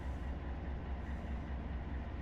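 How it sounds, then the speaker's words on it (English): Steady low rumble of a very long, heavy freight train running slowly in the Run 8 train simulator, continuous and even with no distinct clacks. "It's a very heavy freight long train"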